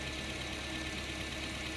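A car engine idling after a valve cover oil leak repair and fuel rail work. It is a steady, close mechanical hum with a faint knock-like texture and no talking.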